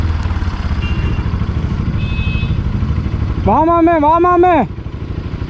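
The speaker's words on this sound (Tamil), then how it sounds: "வண்டி கதறுது." A Bajaj Pulsar NS200 motorcycle engine labours off-road with a steady, loud, low drone throughout. A shouted voice rises over it near the end.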